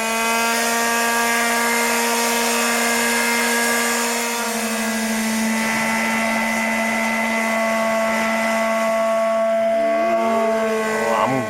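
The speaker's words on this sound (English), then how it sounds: "next step is sanding." A steady, loud electric power sander whirs continuously on wood with a constant high-pitched motor hum, running for the whole stretch before cutting off at the end.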